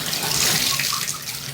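Water gushes from a Moen shower and tub faucet in a loud, close, continuous splashing rush that eases slightly at the end, with no talk.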